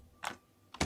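Two quick key presses on a computer keyboard, the P key tapped, each a short sharp click heard close and faint in a quiet room.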